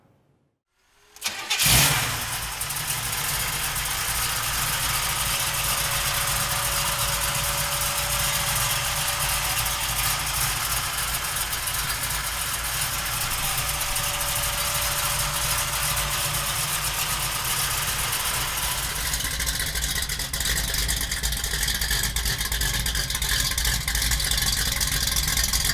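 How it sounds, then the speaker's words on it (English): A supercharged 454 V8 in a 1968 Chevrolet Camaro convertible cranks and fires after a short silence, then settles into a loud, steady, rumbling idle that shifts slightly near the end; no speech. "We're gonna raise the hood, fire up that supercharged 454."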